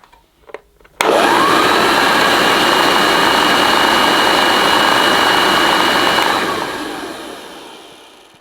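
A 1976 Hoover Dirtsearcher vacuum cleaner with a worn, distorted belt switches on with a sudden loud start, roars steadily at close range for about five seconds, then winds down as it is shut off.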